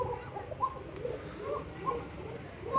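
Pigeons give soft, repeated coos close by in a gentle rolling rhythm, with faint background murmur and no clear wing flaps.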